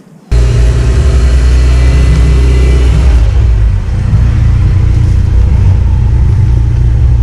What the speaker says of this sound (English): Kevin's gonna back my car up for me.